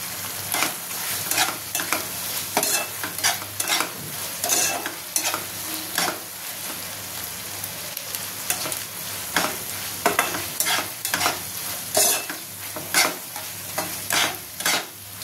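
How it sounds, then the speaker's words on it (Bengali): Baby corn with chilli frying in a pan and stirred by hand: a steady sizzle under repeated sharp scraping strokes of a spoon, close and busy, with no talk. "এটা আমি ভালো করে নাড়বো।"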